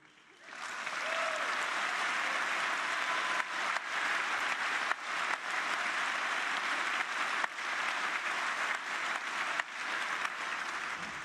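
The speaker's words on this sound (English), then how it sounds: "But you're actually applauding the wrong people" An audience at a public inquiry hearing on infected blood breaks into sustained applause, rising quickly and holding as a dense, even wash of clapping for about ten seconds.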